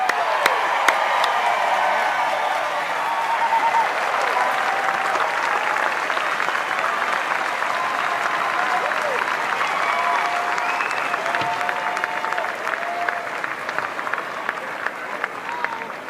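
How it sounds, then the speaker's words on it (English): A large audience at a San Francisco mayoral inauguration applauds continuously, with thick, even clapping and scattered cheers and whoops. Crowd murmur runs underneath the whole stretch. "A round of applause, please, once again."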